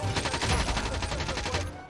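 Rapid bursts of automatic gunfire in the online shooter Warzone, a dense, continuous fusillade with overlapping shots and loud, sustained intensity across the moment.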